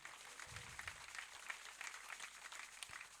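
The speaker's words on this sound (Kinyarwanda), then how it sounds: "Komera Imana amashyi kubwo kuba wicaye aha" Church congregation applauding during a prayer service, a dense, quiet patter of many hands clapping continuously throughout, distant and fairly faint with no clear voices over it.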